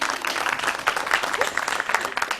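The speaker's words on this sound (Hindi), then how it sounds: "तालियां बजा दिया करो यार" A studio audience on a morning television show claps, an uneven, modest patter of hands that pulses and fades rather than building to a full roar.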